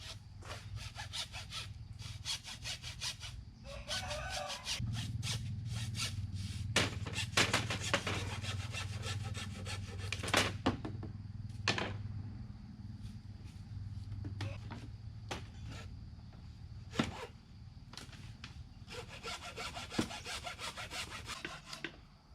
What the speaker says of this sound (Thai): เลื่อยบ้องไม้ไผ่กัน